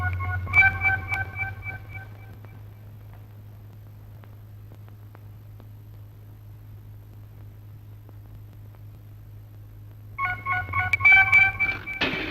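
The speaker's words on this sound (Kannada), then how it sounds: "ಕ್ಲಬ್ಬಿಗೆ ಒಂದು ಫೋನ್ ಮಾಡು" Touch-tone telephone keypad beeps dial a number in two quick bursts of tones, separated by about eight seconds of low steady electrical hum in a quiet room.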